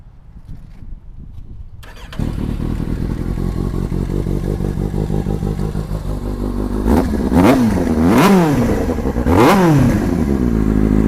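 A large sport motorcycle with a catalytic converter in its exhaust starts up loudly and settles into a rumbling idle, then gets three sharp throttle blips that rise and fall close by.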